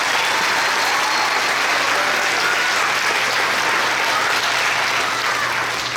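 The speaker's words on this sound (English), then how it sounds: "Let's give them another round of applause." Loud, dense applause from a room full of people honoring students at a school board meeting, steady and unbroken for several seconds, with a low steady hum underneath.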